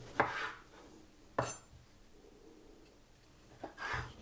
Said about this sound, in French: Les tomates cocktail, on va les couper en 4.